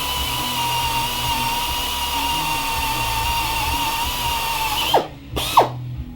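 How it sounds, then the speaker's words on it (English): A power drill whines steadily for several seconds, drilling into a broken-off stud, then stops, followed by two short bursts of drilling close by. "because you can make slight adjustments as you're drilling your hole."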